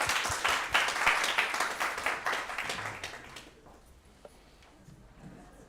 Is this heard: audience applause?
yes